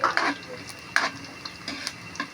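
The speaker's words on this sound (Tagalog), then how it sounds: "Ginigisa na po natin." Sautéing in a pan for ginisang sitaw, a low sizzle beneath a few distinct scraping and clinking strokes of a spatula, sparse and close, with no words spoken.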